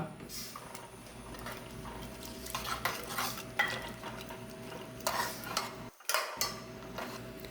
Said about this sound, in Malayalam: ഇനി ഇതാ നമുക്ക് കറിവേപ്പില ചേർക്കാം